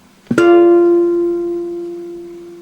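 A single guitar chord from an FGC3-tuned guitar, using the S5, T4, S3, S2 shape, is struck once and left to ring, its sustained tones fading slowly alone.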